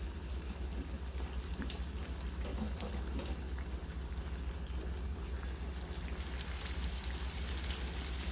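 Chicken and potato spring rolls frying in oil, a steady, soft sizzle with scattered crackles and pops over a low background hum, no voices.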